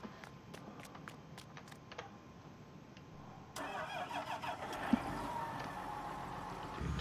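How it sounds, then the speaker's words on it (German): A tractor engine cranks and catches on a farm, its starter and ignition giving way to a steady mid-pitched running rumble, heard close and clear after a few seconds of quiet background clicks. "In der Zeit kann ich aber auch den Traktor hier wegfahren."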